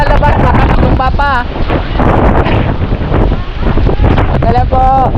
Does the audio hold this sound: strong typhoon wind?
yes